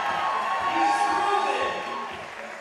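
Spectators cheering for a climber at a para climbing national championship, a moderate wash of crowd voices and calls swelling briefly and then easing, heard from some distance.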